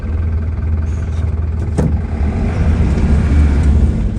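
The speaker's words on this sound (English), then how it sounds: "God, this wheel spins easy," A Scania truck engine revs steadily with a deep loud rumble while an unweighted rear wheel spins freely, a continuous close drone that swells slightly toward the end.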